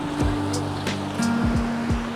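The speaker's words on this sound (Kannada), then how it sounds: "ನೀರು ಎಷ್ಟು ಫೋರ್ಸಾಗಿ ಹರಿತಾ ಇದೆ ಅಂತ" Water rushes forcefully at Gollara Doddi waterfall, a steady, churning roar close by, with a low humming tone running underneath.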